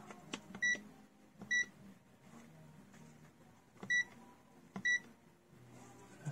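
Digital multimeter in continuity beep mode while probing an LED lightbulb's circuit board, giving four short, faint beeps in two pairs over quiet handling noise.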